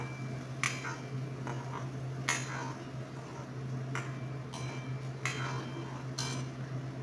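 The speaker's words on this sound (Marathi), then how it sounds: "हलवून घेऊ, जेणेकरून खाली चिटकणार नाही।" A spoon stirring paneer masala in a pan over medium heat, scattered metallic clinks and taps against the pan at irregular intervals over a steady low background hum, no talking.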